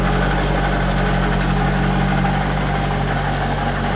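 A 2000 Chevrolet Corvette convertible idles with its exhaust sending out a steady, close, loud low rumble and constant hum, unchanging throughout with no voices.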